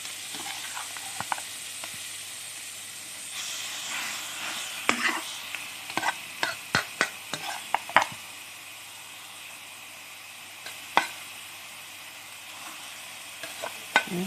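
Pork belly sizzles and crackles in a hot pot, with a series of sharp stirring clacks and scrapes of a utensil against the metal.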